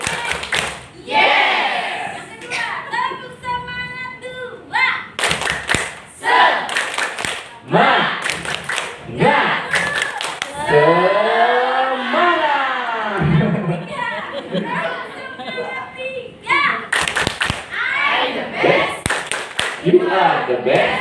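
A group plays a counting clapping game, clapping in bursts and patterns with lively voices and shouts between rounds, people calling out and chattering throughout.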